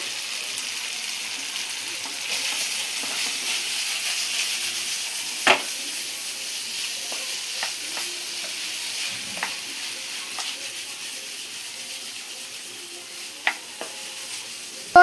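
Chicken majestic fries in a pan as coriander and curry leaves go in, giving a steady close sizzle and hiss broken by a few sharp spatula clicks and pops, with no talking.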